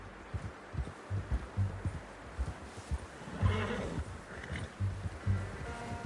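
A horse in the video game Red Dead Redemption 2 whinnies loudly partway through, amid steady rhythmic hoof clops and low background noise.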